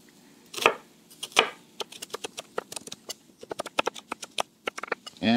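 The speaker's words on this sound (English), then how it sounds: "Now I'll chop up the onion, roughly the same size as everything else." Knife chopping an onion on a cutting board for a vegan holiday stuffing: a couple of heavier cuts, then a quick, uneven run of sharp knocks against the board, close and clear, with no talk.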